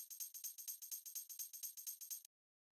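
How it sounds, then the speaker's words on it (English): Short tambourine sample in a tech house groove, a bright, crisp jingle struck about sixteen times in a steady, even rhythm, close and dry, then cutting off abruptly into silence. "This is pretty simple. It's just a little tambourine sound."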